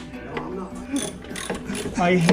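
A ratchet wrench tightens a bolt on a 2007 Yamaha Royalstar Tour Deluxe motorcycle, giving several quick clicking bursts up close in a garage while people talk in the background.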